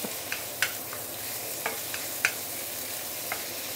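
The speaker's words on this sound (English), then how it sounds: "See, so easy to stir fry because I added oil in the marinade just now" Marinated pork with scallion and ginger stir-fries in a pan, a steady close sizzle punctuated by sharp spatula clacks and scrapes at an irregular pace, with no talking.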